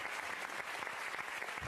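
A studio audience at a French television show applauds, a dense, steady burst of clapping from many hands with no pauses throughout.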